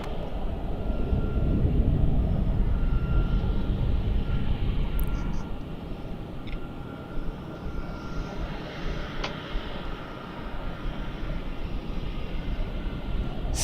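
A jet airliner takes off at Melbourne Airport, a loud broadband engine roar that holds steady and slowly eases, heard from a distance across the field.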